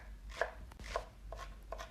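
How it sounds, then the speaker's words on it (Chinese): A knife chops a halved scallion into fine bits on a cutting board, four sharp, evenly spaced strikes ringing out close and clear with no voices. "切成碎末"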